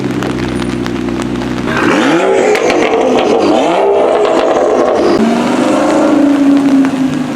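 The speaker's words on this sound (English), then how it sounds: "Sounds like a V10 over there." A V10 car engine revs loudly nearby at a rainy car show, its pitch sweeping up and down in repeated surges over a steady wash of rain and wind noise.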